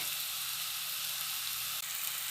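Garlic sizzles loudly in a hot pan, frying as part of a quick cocoa-bean stew with onions. A steady, close, hissing crackle runs unbroken from start to finish, with no voices.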